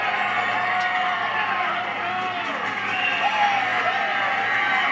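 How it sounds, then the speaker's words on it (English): Texas race fans at a NASCAR Xfinity race chant and cheer for driver Noah, a steady, distant crowd roar with rhythmic voices rising and falling over continuous track ambience. "You hear the chant of Noah."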